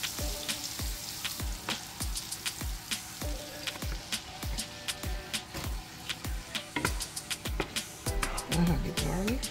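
Butter melts in a hot pan for a seafood boil sauce, sizzling and crackling steadily while sharp ticks and pops repeat throughout at close range.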